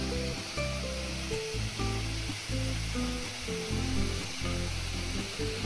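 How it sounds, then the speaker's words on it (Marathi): White water pours over black rock in a waterfall, making a steady, even rushing hiss with quiet music underneath. "काळ्या कातळावरून कोसळणारी पांढऱ्या शुभ्र पाण्याची धार पाहताना काळ जणू तिथेच थांबतो."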